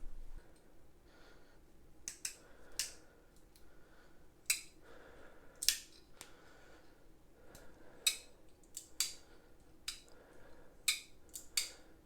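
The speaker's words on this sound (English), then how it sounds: "We'll get these 4 screws tight." Replacement screws being worked tight into a Spyderco Manix 2 knife scale, a run of sharp, close metallic clicks and ticks in irregular bursts separated by brief quiet gaps.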